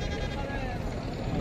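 Goats at a goat market bleat faintly while someone talks over them, the animal calls sitting low under close speech.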